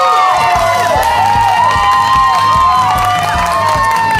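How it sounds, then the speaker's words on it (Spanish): A studio audience on a TV game show cheers and applauds for the red team, loud crowd noise mixed with bright electronic tones and a pulsing beat. "¡Aplauso para los rojos!"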